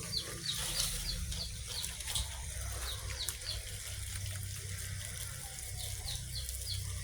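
Water from a pump sprays onto grapevines in hot sun, a faint steady hiss over a low motor hum, while chickens cluck and chirp repeatedly nearby.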